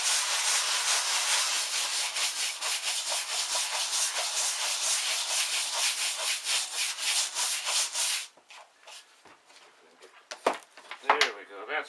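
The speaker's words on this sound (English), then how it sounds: "Grab the brush first and give it a good scrubbing." A brush scrubs degreaser into a car sun visor in fast, close, rhythmic strokes for about eight seconds, then fades to a few scattered rubs and knocks.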